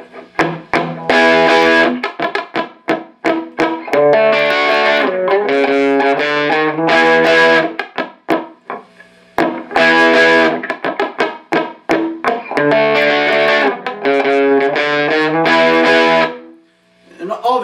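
Distorted electric guitar chords play a riff through a 1960s Supro amp, loud and punchy, in strummed bursts separated by brief gaps.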